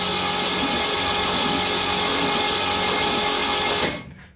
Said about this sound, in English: let's crank her over and just see what we see